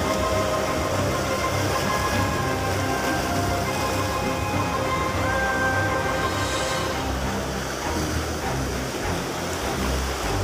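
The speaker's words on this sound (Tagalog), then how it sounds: "Lakas ng alon guys." Strong sea waves surge against an island shore during a trevally fishing trip, a steady roaring wash with wind noise that fills the whole stretch without letup.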